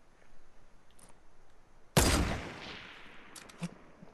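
A single loud, sharp sniper rifle shot in Fortnite cracks out and decays with a trailing echo, with faint clicks and small noises before and after.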